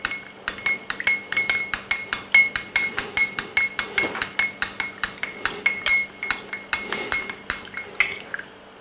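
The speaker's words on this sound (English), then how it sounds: "Mix very well." A spoon clinks steadily against the inside of a glass while stirring natural honey into a drink, with quick regular taps repeating throughout, close and clear with no talking.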